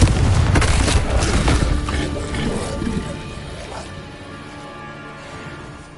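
A Confringo blasting spell in Hogwarts Legacy detonates with a loud booming crash at the start, its rumbling debris and crackle fading steadily over several seconds into a quieter tail.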